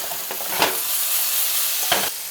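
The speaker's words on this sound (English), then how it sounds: "Now I want you to take your spatula and give them a good shake" Home fries of potatoes frying in hot oil in a pan make a steady, loud sizzle, broken by two scraping strokes of a spatula turning them.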